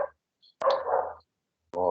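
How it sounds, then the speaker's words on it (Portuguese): A dog gives a couple of short barks or yips near the microphone, separated by brief silences. "meu cachorro"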